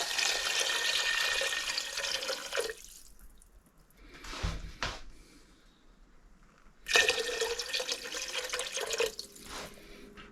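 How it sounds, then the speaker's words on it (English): Water pours into a soup pot in two bursts, a bright splashing gush that stops for a few seconds of quiet with a couple of small clunks, then resumes before trailing off, while 8 cups are added for ham and bean soup. "In my case, I'm going to use 8 cups of water."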